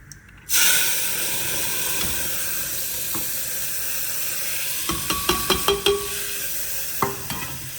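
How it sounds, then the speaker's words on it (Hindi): Cumin and chana dal hit hot oil in a small pressure cooker while vegetables are tempered, starting with a sudden loud sizzle that settles into a steady hiss, then a run of sharp spoon scrapes and clicks near the end. "तो चलिए फ्रेंड्स अभी सब्जी छोंक देते हैं। जीरा हमारा भुन चुका है और अब डाल देंगे इसमें ये चने की दाल।"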